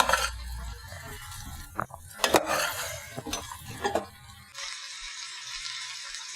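A spoon stirs green beans with bacon and almonds in a hot pan: clinks and scrapes against the metal, with a soft sizzle that carries on alone after the stirring stops.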